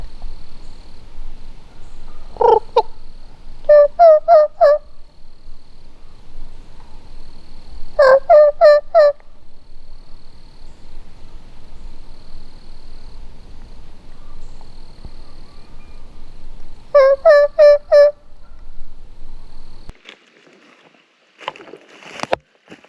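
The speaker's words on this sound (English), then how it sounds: "There are turkeys everywhere." Several short bursts of rapid, rattling wild turkey gobbles from a distance during a squirrel hunt, separated by quiet stretches, with light rustling in between.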